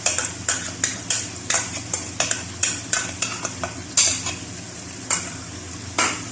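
Chicken frying with yogurt in a karahi, a utensil scraping and stirring in quick rhythmic strokes over a steady sizzle, close and clear with no talk.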